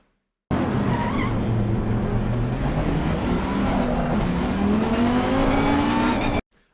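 A race car in the video game Assetto Corsa Competizione roars steadily with a rising and shifting engine tone and some tire noise, loud and continuous for about six seconds, starting and stopping abruptly.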